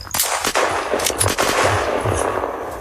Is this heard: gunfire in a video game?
yes